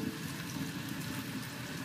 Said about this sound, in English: I'm gonna go ahead and rinse out the first of the batch